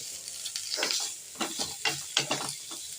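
Shallots sauté in a pan for pirandai chutney, with a steady sizzle broken by scraping stir strokes of a spoon, close and fairly loud.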